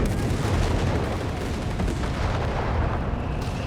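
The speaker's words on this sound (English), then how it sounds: "We got artillery fire in the center there." Artillery fire in the video game Company of Heroes 3, including a howitzer: a dense, continuous roar of distant booms and rumbling blasts, steady and loud throughout with no talking.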